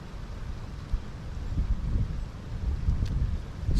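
Strong wind gusting through a Pennsylvania forest in late winter, a rough, rumbling roar buffeting the microphone, swelling and easing in irregular gusts.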